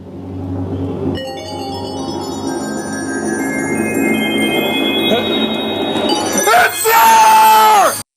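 A loud, sustained scream rises over the end of an emergency alert scenario recording, preceded by layered electronic tones and a steady droning bed that fill the clip at high volume.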